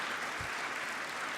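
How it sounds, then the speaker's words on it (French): A conference audience at a science and health talk applauds in a steady, even wash of clapping, heard distant and fairly faint from start to end. "Je crois qu'on peut applaudir vos invités qui nous ont bien expliqué"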